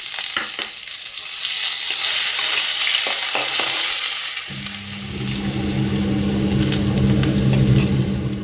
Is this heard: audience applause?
no